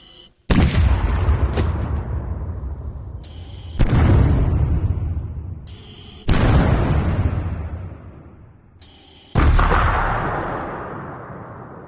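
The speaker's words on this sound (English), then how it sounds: "The next lot of sounds are all very similar and come from something called a propane cannon" A propane cannon, a small propane blast at the base of a long hollow metal tube, fires four loud booming explosions at even intervals, each followed by a long decaying rumble.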